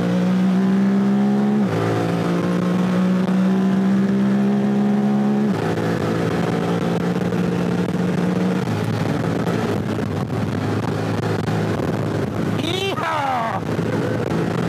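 Honda Talon 1000X UTV engine accelerating at full throttle in Utah's Zion Canyon wilderness, loud and close, climbing in pitch through several gear shifts with a brief rising whine near the end, while someone talks over it.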